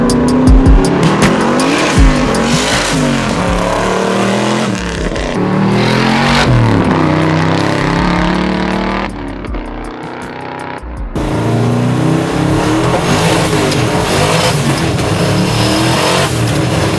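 A 1000 whp twin-turbo 1967 Chevelle with a sequential shifter shreds its tires, the engine roaring and revving hard over continuous squealing rubber, with brief dips between loud bursts.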